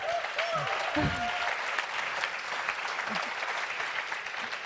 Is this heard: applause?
yes